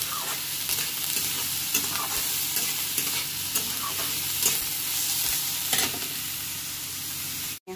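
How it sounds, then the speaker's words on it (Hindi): Onions and ground masala sizzle continuously in a pan, stirred throughout with repeated scraping strokes of a spoon, close and fairly loud, ending in an abrupt cut. "प्याज हमारा भुना जाएगा, उसके बाद मसाला डालेंगे।"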